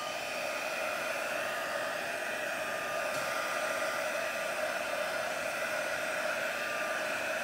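A heat tool blows hot air to dry chalk paint dabbed onto cardstock, producing a loud, steady, continuous whirring hiss that holds unchanged throughout with no voice.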